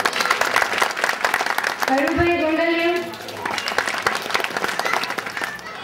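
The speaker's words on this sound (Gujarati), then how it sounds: "ત્યારે ઉપસ્થિત મહાનુભાવ જીતુભાઈ વાઘાણી, એનું આપણે તાળીઓથી સ્વાગત કરીશું।" An audience at a Vaishnav Sadhu Samaj community gathering claps to welcome a guest, dense applause running under a man's announcement over a loudspeaker.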